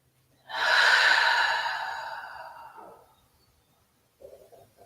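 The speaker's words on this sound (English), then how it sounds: "Deep, full breaths." One long, deep exhale during a yoga session, close and breathy, tapering off over about three seconds, followed after a pause by a soft short breath.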